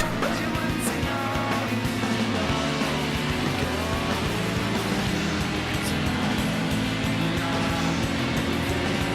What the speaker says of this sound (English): Hopefully the car engine noise will drown it out enough that YouTube won't recognise it.